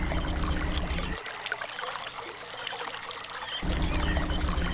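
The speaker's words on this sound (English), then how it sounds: "Now there's more of a water flow." Steady rushing water flowing in realMYST, running loud and continuous with a brief softer dip in the middle before the full flow returns.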